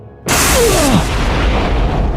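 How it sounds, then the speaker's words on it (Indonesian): A black-lightning explosion in an audio drama bursts in suddenly as a loud, close boom with a swooping tone inside it, then decays into a sustained rumbling roar. "Tubuh Tori terlempar jauh ke belakang akibat dampak ledakan petir hitam tersebut."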